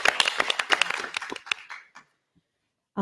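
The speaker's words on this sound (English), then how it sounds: "I would just like to ask for a round of applause and appreciation for Jay Moody for all that he's done for the city" Commission meeting audience gives a round of applause for a departing city official, a dense burst of claps lasting under two seconds that tapers into quiet.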